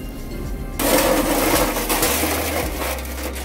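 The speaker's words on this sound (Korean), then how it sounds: "지지직지직 하면서 이게 전기가 흐르면서 흔적을 지우는 소리가 들릴 겁니다." An electrolytic weld-mark cleaner crackling and buzzing as it passes over stainless steel: after a quiet start, a continuous close sizzling hiss with an underlying electrical hum, no talk.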